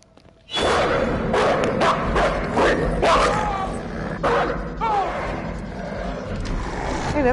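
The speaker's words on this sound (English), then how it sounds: "that's the dog we're gonna kick later" A dog in the video game Until Dawn barks loudly several times in an irregular sequence of sharp, close barks and yelps after a brief quiet start, with a game background underneath.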